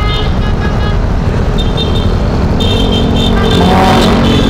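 Loud, dense road traffic in a jam with motorbikes, held up by a bike racing or endurance event, with a constant engine rumble and passing vehicles nearby.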